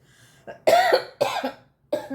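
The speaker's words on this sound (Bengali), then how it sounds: "সরি একটু কাশি হচ্ছে" A person coughs in three sharp bursts, the first strongest, each a harsh throaty hack separated by short pauses, close and clear with no talk around them.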